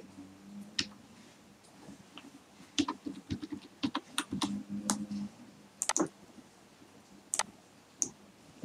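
Typing on a computer keyboard while entering data into an Excel spreadsheet: irregular bursts of close, crisp key clicks with short pauses between flurries, no talking.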